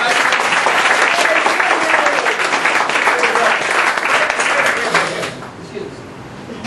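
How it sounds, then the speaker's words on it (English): An audience claps a loud, steady round of applause at a broker outreach event, with talk and cheering mixed in; the clapping thins and softens near the end. "Now, I want to teach you guys how to do a level 10 round of applause, and Steve, maybe you can learn something"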